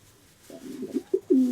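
A racing pigeon coos nearby, a few soft low murmurs building to a louder drawn-out coo, alone without talk.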